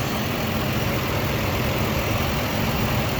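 A 1994 Toyota Land Cruiser engine idling smoothly, a steady, even rumble throughout with no other sounds.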